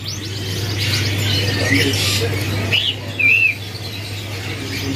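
A young, brightly coloured loper canary, about two to three months old, gives several short chirps and sweeping whistled calls, fairly close, over a low steady hum.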